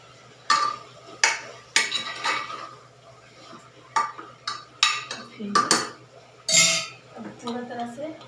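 Masala for Kashmiri rajma is roasted in a pan, with a spatula giving irregular, sharp metallic scrapes and clinks against the metal at close range, separated by quieter gaps.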